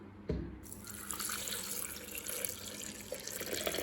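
Two cups of boiled milk pour into a container for a banana milkshake, a steady close liquid splash and gurgle that starts with a thump and runs on without a break.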